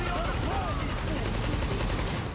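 Rapid, continuous automatic gunfire in The Division 2 video game, dense and loud throughout the short burst with no pauses.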